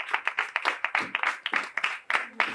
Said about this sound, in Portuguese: Dê uma salva de palmas pela vida dele.